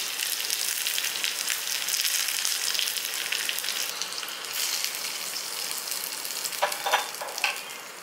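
Mustard seeds, small shallots and curry leaves frying in a spoonful of oil, a loud continuous sizzle close up with scattered seed pops and crackles, ending in a few sharper spatters.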